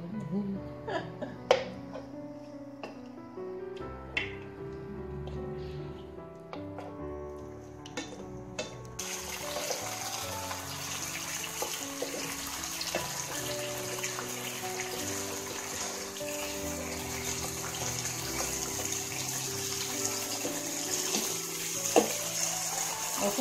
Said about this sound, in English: Now we will add half liter of water inside.